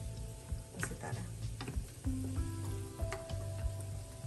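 Moong dal kachori fry in hot oil on a low to medium flame, a soft steady sizzle with scattered crackles and light clinks from stirring, under faint background tones.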